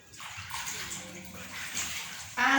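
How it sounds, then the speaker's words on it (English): A small mango being washed under running water: a steady, close rush and splash of water that continues throughout and gets noticeably louder near the end. "This small mango, so we are going to wash it."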